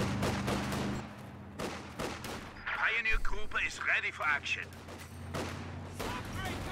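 Video game StG assault rifles fire in a WWII-style battle: distant crackling bursts and scattered shots between about three and five seconds, with a commentator talking before and after.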